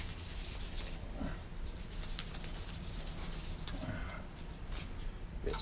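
Fine 400 grit sandpaper rubs over a wooden spoon in quick, repeated strokes, a soft close scratching rasp that keeps a steady rhythm throughout with no talk.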